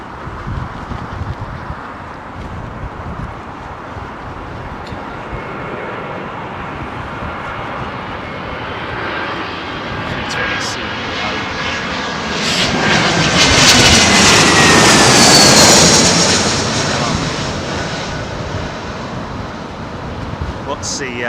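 An airliner comes in to land at Heathrow Airport against a strong headwind, its engine roar building loudly to a peak mid-clip and then easing, with wind noise throughout and someone talking over it.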